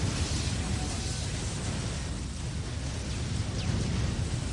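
Dense, continuous rumbling roar of artillery fire and explosions in the Dark Crusade strategy game, loud and steady with no gaps, mixed into a single wall of battle noise.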